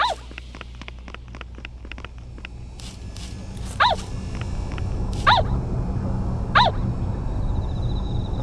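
A dog gives several short yips and barks in a video game, Yomawari: Midnight Shadows, spaced a second or so apart, over a rising background rumble and scattered clicks in a dam drainage system.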